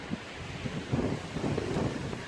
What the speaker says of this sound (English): Some windy today.